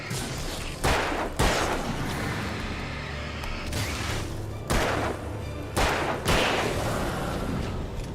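Rifle fire in the Alan Wake video game: five loud, separate booming shots spaced about a second or more apart, each ringing out into a rumbling, mechanical background.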